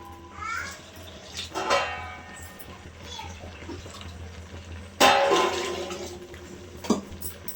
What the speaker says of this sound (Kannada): ಇದನ್ನು ಕೂಡ ಕುಕ್ಕರ್ಗೆ ಹಾಕಿ ಎಷ್ಟು ಬೇಕೋ ಅಷ್ಟು ನೀರನ್ನು ಹಾಕೋತಾ ಇದ್ದೀನಿ